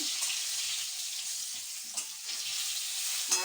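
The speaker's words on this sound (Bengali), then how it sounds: "বেগুন ভাজা চারটে খণ্ড করেছি বেগুন ভাজা" Four eggplant pieces fry in a pan, giving a soft, steady sizzling hiss broken by a few faint clicks and pops, with no voices.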